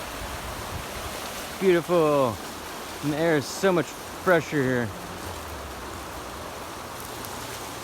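The Applegate River runs in a steady, close broadband rush that continues throughout, with a person speaking briefly over it in the middle.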